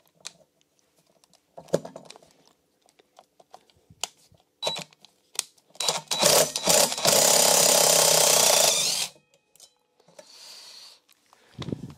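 A ratchet wrench with a socket works on the brake disc bolts of a Kawasaki ZX9R motorcycle, giving scattered clicks, then a long loud continuous ratcheting burst before quieter clicking resumes.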